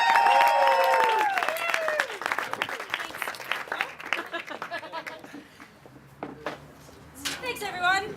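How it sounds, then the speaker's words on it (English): A crowd at a church family dinner claps and cheers, a mid-level burst of applause with whoops and overlapping chatter, with scattered claps and voices continuing as it dies down. "Let's give her a massive clap, massive cheer."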